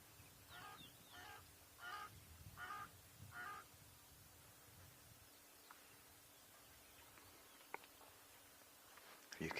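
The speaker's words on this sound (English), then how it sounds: "You can hear the crow calling off to the left." A crow caws off to one side, about five harsh calls in a slow, regular series, moderately distant in an outdoor setting, followed by quieter ambience with a few faint clicks.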